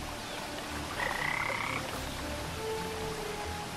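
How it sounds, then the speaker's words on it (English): A frog in a video game, KeepUp, croaks in a couple of short, throaty calls over a soft background of trickling ambience, fairly close and with no one speaking. "I just hear a frog"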